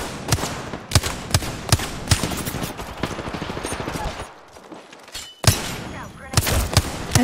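Rapid bursts of automatic gunfire from the PUBG battle-royale shooter crack out in close succession, pause briefly into quieter ambience, then resume with more loud shots.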